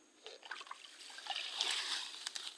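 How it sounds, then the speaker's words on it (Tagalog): Clear water trickles and splashes in a forest stream, a close, faint babbling flow with small splatters that swell slightly toward the end, no talking. "Ayan yung sapa guys oh."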